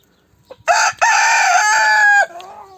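A four-year-old breeding rooster crows loudly and close by, one long strained call with a brief break near the start, ending in a faint trailing note.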